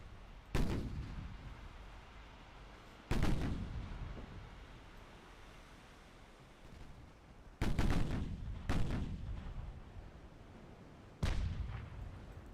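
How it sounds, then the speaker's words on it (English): Torpedo detonations in the naval warfare game Ultimate Admiral Dreadnoughts, five heavy booming blasts spaced irregularly, each a sharp loud crack trailing into a rumbling decay over a quiet background. "Look at this thing fucking curve towards us! Okay, and then it detonates."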